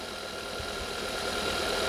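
A 2015 Hyundai LF Sonata plug-in hybrid with 120,000 km runs at a faint, smooth idle, heard as a steady low hum close up with no talk.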